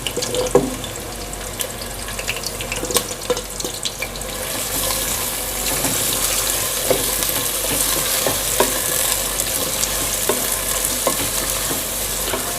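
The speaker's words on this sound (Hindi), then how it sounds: "साबुत गर्म मसालों को 30 सेकंड मैंने थोड़ा सा सोटे करने के बाद इसमें मैं डाल दूँगी अब प्याज" Onions fry in ghee with whole garam masala inside a pressure cooker for mutton curry, a steady close-up sizzle broken by frequent spoon scrapes and taps against the pot.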